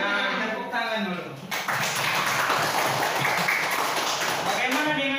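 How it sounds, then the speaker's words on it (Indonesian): A school class claps hands together in a classroom, a dense burst of clapping that starts after a voice speaks and continues steadily, moderately loud and close. "Tepuk tangan dulu."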